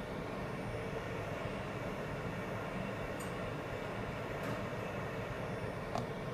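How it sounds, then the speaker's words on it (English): A 6VDC mini water pump runs dry with a steady, loud mechanical whir and hum that holds constant throughout, with a few faint clicks over the drone. "At this moment, the pump starts work, right?"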